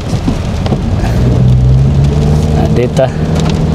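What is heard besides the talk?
rain falling in Davao City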